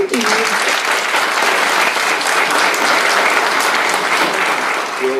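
Loud, sustained applause from a large crowd, steady clapping filling the whole stretch without a break.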